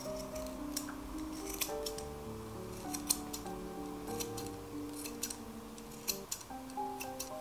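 Scissors snip excess fabric at the back of a handmade Christmas gnome, with small sharp clicks and cuts scattered over soft background music.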